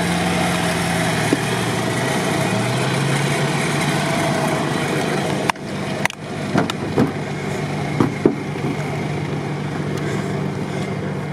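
An off-road vehicle engine drones steadily as it is pulled out on a winch, loud and close, with a run of sharp clanks and knocks in the second half.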